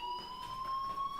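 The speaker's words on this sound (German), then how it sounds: "Hey, do you hear that fire alarm? That means you should be outside." A school fire alarm rings in the video game Life Is Strange, holding a steady, shrill electronic tone for about a second, loud and continuous with no voices over it.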